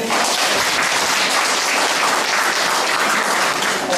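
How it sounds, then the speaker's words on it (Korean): Loud, dense applause fills the room at the opening ceremony of a photo exhibition, a continuous wash of many hands clapping at once with no voices on top. "박수 좀 쳐주세요"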